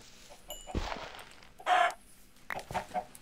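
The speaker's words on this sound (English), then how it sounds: "Chicken, where the heck are you?" Chicken clucks from Minecraft, a short burst of clucking near the middle with a few fainter clucks later, set against quiet game background and sparse noises.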